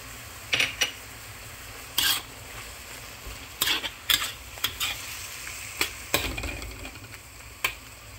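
Bacon cooking in a pan for homemade pasta, with a low steady sizzle beneath scattered sharp clinks and scrapes of utensils against the pan, no talking.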